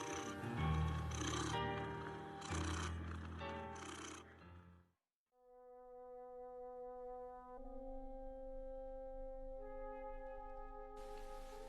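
A cat purring as a sound effect in a Catalan horror audio drama: a dense, rumbling purr for several seconds, then quieter sustained tones.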